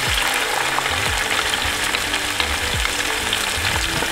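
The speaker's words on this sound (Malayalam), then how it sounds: "നമുക്ക് ഇതെല്ലാം കൂടെ ഒന്ന് മൂക്കട്ടെ" Chopped green chili and garlic fry in a pan with a steady, close sizzle and crackle, occasional stirring scrapes breaking through, no voices.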